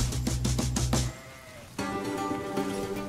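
Several sheep bleat in quick succession, close and loud, followed by a pause and then a longer drawn-out bleat.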